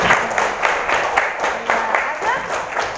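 Schoolchildren in a classroom clapping for a classmate, a short burst of patterned rhythmic claps in quick groups, close and fairly loud, with young voices mixed in.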